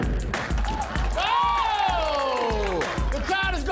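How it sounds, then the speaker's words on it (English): A basketball arena crowd roars loudly after a slam dunk at a men's college conference championship, with rhythmic thumps and a high voice sounding over the din. "The crowd is going wild."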